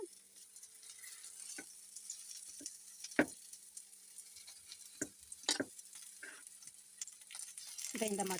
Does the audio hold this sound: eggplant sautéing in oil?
yes